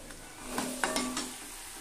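Garlic and turmeric spices fry in oil in a pan for egg bhapa, giving a soft sizzle with a few light stirring scrapes and clinks over a short stretch.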